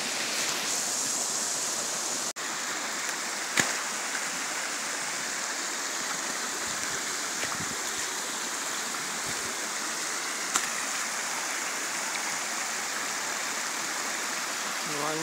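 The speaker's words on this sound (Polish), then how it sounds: "Kolejny strumyk, nasza kolekcja się powiększa." A mountain stream in the Polish mountains near Węgierska Górka rushes steadily and evenly, a close, continuous wash of water with a couple of faint clicks partway through.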